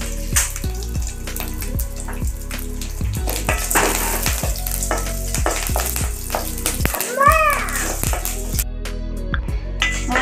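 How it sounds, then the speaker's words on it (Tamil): Chillies fry in hot oil in a pan with chana dal, urad dal and curry leaves, giving a steady close sizzle broken by clinks of a spoon against the pan, with a brief burst of running water. "மிளகாய் வறுபட்டுருச்சு."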